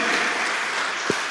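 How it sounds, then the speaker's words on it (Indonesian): Church congregation applauding during a Sunday worship service, a dense steady wash of clapping from many hands that fills the whole moment, with one sharp louder clap near the end. "Wow, tepuk tangan dong untuk Tuhan,"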